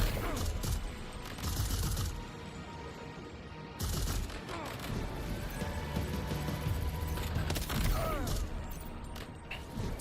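AK rifle gunfire in a video game: repeated loud, sharp bursts and shots fill the whole stretch in a dense, chaotic rhythm, mixed with mechanical clatter.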